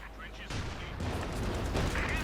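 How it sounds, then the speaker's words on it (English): Explosions and mine blasts rumble through a Company of Heroes 2 match, dense overlapping booms and battle noise filling the short stretch under a commentator's voice. "More explosions, more mines, more death."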